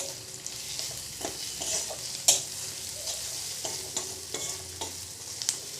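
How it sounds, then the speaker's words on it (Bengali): Masala frying in a pan with turmeric, a soft continuous sizzle broken by scraping stirs and light ticks of the spoon against the pan, close up and fairly quiet. "মশলাটা ভালো করে কষা হয়ে গিয়েছে। এবার আমি একটু হলুদের গুঁড়ো দেব, দিয়ে আলুগুলো দিয়ে দেব মশলার ওপরে।"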